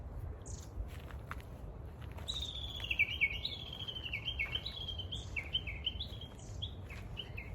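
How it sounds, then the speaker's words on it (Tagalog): Birds chirp and trill in a series of high, bright calls over steady low background rumble, fairly close and clear, near flowering tsutsuji azaleas in Japan. "huni po ng ibon"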